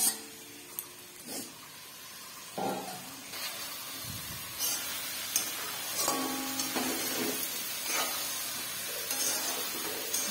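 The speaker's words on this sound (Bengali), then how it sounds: "সেই ব্রোকোলিগুলো এখন আমি মশলার মধ্যে দিয়ে দিচ্ছি।" Broccoli being stirred into hot spices in a frying pan, giving a steady close sizzle with scraping stir strokes and occasional clinks throughout, no talking.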